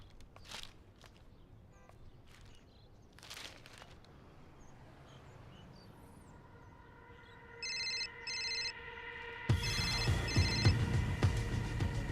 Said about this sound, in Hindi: सर, आपके लिए फ़ोन है अर्जेंट.